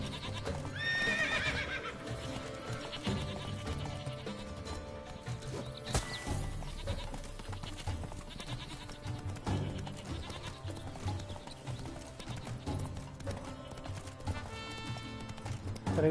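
Horse hooves clip-clop alongside bleating goats in The Witcher 3, where Geralt's horse Roach moves through a herd; the animal sounds continue steadily over game music and ambience.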